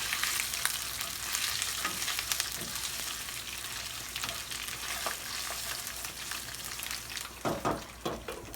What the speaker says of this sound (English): once all of it is sizzling, as it is now, you can add in the vegetables